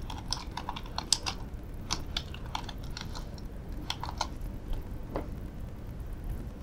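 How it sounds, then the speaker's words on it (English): Fingers type on a computer keyboard in quick irregular bursts of light clicks, close and fairly quiet, with short pauses between runs and nobody speaking. "So if I type here"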